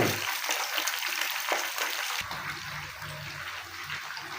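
Tilapia fries in a pan with an even, crackling sizzle throughout, a dense spattering hiss that shifts slightly in tone midway as the fish settles in the hot oil.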